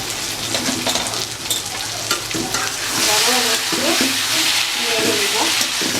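Puti fish curry with mustard oil is stirred in a frying pan, a steady close sizzle with scraping spoon strokes throughout, brief indistinct voice in the background.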